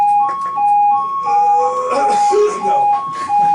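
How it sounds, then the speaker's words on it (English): A loud, steady electronic ambulance siren wavers through the clip, close by, with a single short spoken word over it. "Sounds like someone called an ambulance."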